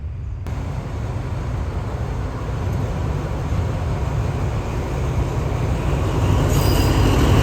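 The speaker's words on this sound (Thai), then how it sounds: "รถสินค้า BC BCF ของมาเลเซียนะครับ" A freight train hauling Malaysian BC and BCF wagons rolls through a station in a continuous, loud rumble of wheels on rail that swells steadily, with a faint high squeal near the end.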